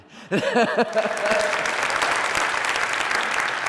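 Audience applause at a child welfare crisis communication session, starting abruptly after a brief voice and continuing as a full, even clatter of many hands clapping together.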